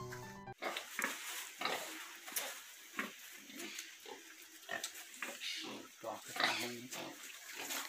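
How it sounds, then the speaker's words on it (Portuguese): Pigs in a farm pigsty grunt and snuffle in irregular short bursts, close and fairly loud, while people talk nearby. "Vou descer aqui onde tá a casinha dos porcos aqui embaixo aqui, né? Fazer uma visita aqui pros porcos também."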